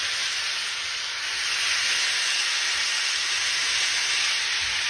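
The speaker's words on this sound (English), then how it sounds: "You want to hear that frying noise." A loud, steady sizzling hiss of venison heart frying in butter in a hot skillet, continuous and close.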